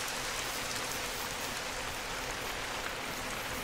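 Rain pours in the hunting video game The Hunter: Call of the Wild, an even, unbroken wash of drops hissing steadily and fairly quietly with no voices over it.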